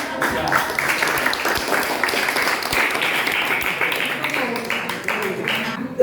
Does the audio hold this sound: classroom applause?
yes